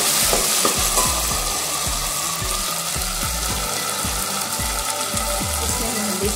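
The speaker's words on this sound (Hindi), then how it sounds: "प्याज और अदरक लहसुन दोनों को भी गोल्डन फ्राई करेंगे।" Onion, ginger and garlic fry in a pan for khichdi, a continuous close sizzle broken by regular scraping stirs, roughly two strokes a second, with no talking.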